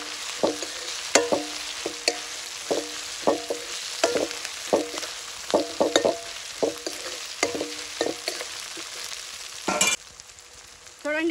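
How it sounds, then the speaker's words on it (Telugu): Ginger garlic paste frying with onions in a pan for village-style chicken curry, outdoors in a mango grove. A steady sizzle runs throughout, with rhythmic scraping stir strokes about once a second and a louder clatter near the end. "ఈ అల్లం వెల్లుల్లి పేస్ట్ని కూడా పచ్చివాసన పోయేంత వరకు వేగనిద్దాము."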